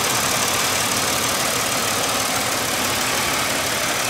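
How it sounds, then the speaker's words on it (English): Steady idle of a 2002 Buick Regal LS engine, a constant broadband hum with a faint knocking texture, close and even throughout with no talking. "So I've been driving this car for 4 years and this engine still runs good."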